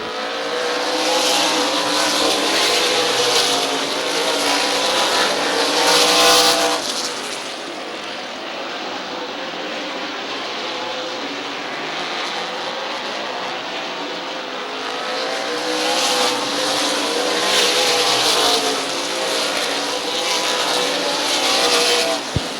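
Stock cars race around Midvale Speedway in a Super Cup twin 50 event, a loud continuous roar of engines sweeping past, swelling and fading as the pack circles the track.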